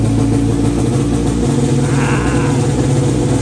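A small engine on a tuning setup revs steadily and loudly throughout, a dense continuous drone with rising and falling intensity and no talk over it.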